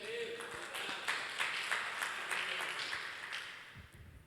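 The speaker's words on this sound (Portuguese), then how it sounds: "Pode dar uma salva de palmas para Jesus?" Church congregation applauding during a Portuguese-language sermon, a steady wash of clapping over about four seconds that fades toward the end, with light speech mixed in.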